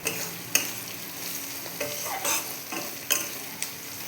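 Soya chilli with green capsicum, pepper, salt and Kashmiri chilli powder stir-fried in oil, a soft sizzle broken by several sharp scrapes and clacks of a spatula against the pan, close and alone.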